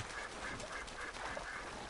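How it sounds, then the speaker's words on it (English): A duck in Red Dead Redemption 2 gives a run of repeated nasal quacks, evenly spaced and fairly faint, over a steady wash of background game ambience. "Oh, the duck just came in for a landing."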